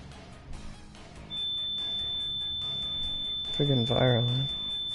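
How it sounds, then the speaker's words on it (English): A household fire alarm emits a continuous high-pitched tone, starting early and holding steady while a person talks over it and game sounds play underneath. "Friggin' fire alarm."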